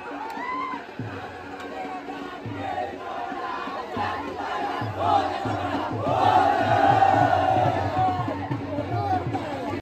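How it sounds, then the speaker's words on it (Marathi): A large crowd of boys roars and shouts in celebration as the tall Holi pole falls at the Borli Panchatan Holi festival in Shrivardhan, Konkan, with sustained loud cheering and some rhythmic thumping. "आणि जल्लोष बघा पोरांचा."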